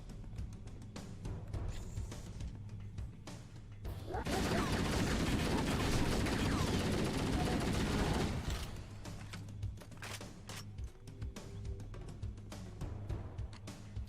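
Sustained automatic gunfire in Halo: Combat Evolved erupts as a dense, loud burst lasting about four seconds, surrounded by quieter game ambience and scattered smaller sounds.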